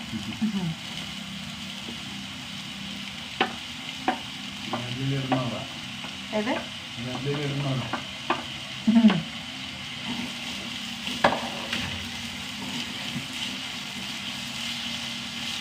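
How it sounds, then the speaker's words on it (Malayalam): Onions sautéing in a pan give off a steady soft sizzle with intermittent stirring scrapes, while a person talks nearby at times. "ഒരു മൂന്ന് സവാള ഇട്ട് കൊടുക്കാം"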